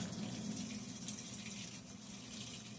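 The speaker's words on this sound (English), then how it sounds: "so still filling with water" Water runs steadily into a Whirlpool washing machine as it fills, a quiet continuous hiss and rush with no talking.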